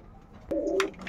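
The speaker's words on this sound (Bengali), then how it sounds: "এই এক জোড়া কবুতর আছে, দেখো শৌখিন কবুতর, কবুতরটির নাম হচ্ছে মডেনা" Fancy pigeons of the Modena breed in a loft coo close by, a soft rolling call after a brief flutter, with faint chirps behind and no talk.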